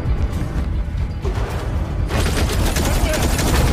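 Rapid bursts of gunfire in a tense sci-fi movie scene where soldiers shoot at menacing alien creatures, a loud sustained volley crowding out everything else, intensifying after the first two seconds.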